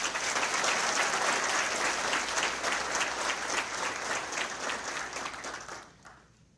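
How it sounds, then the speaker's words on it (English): A crowd at a fire department recruit graduation in Myrtle Beach applauds instructor Carl, dense sustained clapping that holds strong and then fades out over the last second. "So, round of applause for Carl."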